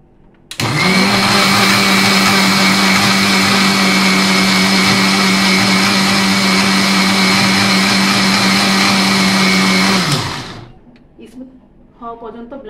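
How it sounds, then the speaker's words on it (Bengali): An electric blender whirs loudly and steadily for about ten seconds, blending boiled eggs into mayonnaise, then winds down and stops, followed by faint handling noises. "হওয়া পর্যন্ত ব্লেন্ড করে নিতে হবে।"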